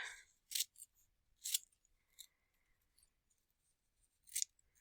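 Scissors cutting craft paper into pieces for a colorful sun mosaic: several crisp, close snips in short bursts separated by quiet pauses, no speech.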